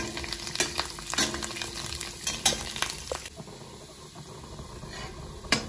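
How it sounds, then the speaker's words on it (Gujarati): Curry leaves and garlic crackle and sizzle in hot oil in a home kitchen pan, with sharp pops and stirring scrapes at first, then the sizzle settles to a steady hiss. "તેલ થઈ ગયું છે એટલે હવે એમાં લીમડી, લસણ, નાખી દઈશું."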